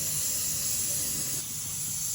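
Steady hissing sizzle as oil is poured into a hot wok, a constant bright spray of noise with a slight dip midway, no voices present.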